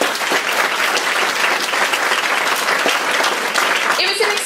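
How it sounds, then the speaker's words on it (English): An audience claps together in a dense, steady round of applause that runs loud and even throughout, with no break. "I think they deserve a round of applause."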